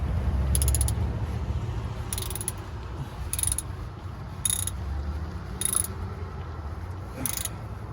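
A ratchet tightens a part on a 2015 Mustang 5.0 with over 100,000 miles, giving about six short bursts of rapid clicking over a steady low mechanical hum, close and distinct.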